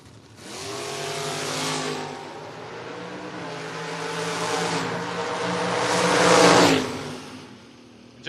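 Astor and Camaro door-class drag race cars launch off the starting line with loud, roaring engines that build and rise over several seconds before fading, heard without talk.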